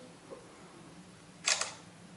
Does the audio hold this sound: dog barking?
no